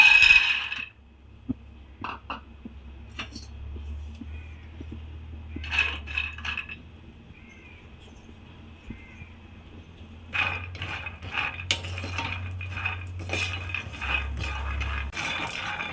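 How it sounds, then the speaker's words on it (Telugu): Peanuts are roasted in a hot pan, heard as scattered dry rattles and clinks as they tumble and are stirred, with bursts of busier clattering between quieter stretches and a low background hum. "ప్యాన్ వేడయ్యాక పల్లీలు వేసుకుందాం."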